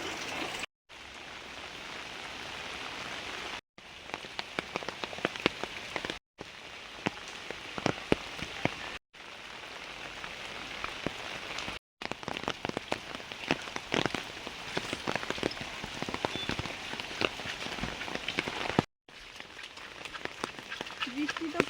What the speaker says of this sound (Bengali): মুসলধারে বৃষ্টি পড়ছিল